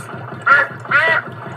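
A cartoon duck in a Peppa Pig episode gives two distinct, nasal quacks in quick succession, loud and close, over a soft chugging background.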